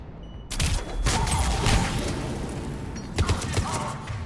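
Gunfire in the Mass Effect 3 assault on Omega on Insanity difficulty, with dense broadband bursts that start abruptly and roll on as continuous fusillade-like shooting, then sharper shots near the end. There is no talk.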